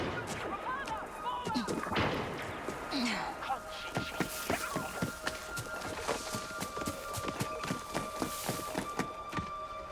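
In the video game Star Wars Outlaws, a series of sharp booms and bursts rings out at irregular intervals over a busy background, with a voice talking in the first few seconds.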